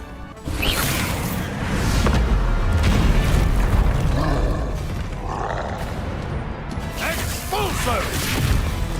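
A Bombarda explosion spell goes off in the video game Hogwarts Legacy, with a loud booming blast and rumbling, crackling debris layered over busy in-game effects.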